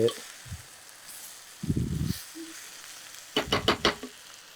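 Quail fry in a pan with cumin and are turned over, giving short bursts of sizzling and scraping. Quieter gaps separate the bursts, and a final run of rapid stirring strokes closes it.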